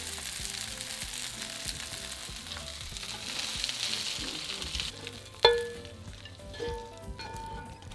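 Pork pieces sizzle steadily in a hot pan, a close bright frying hiss with stirring scrapes, then a sharp clatter and the sizzle quietening as the meat is lifted out.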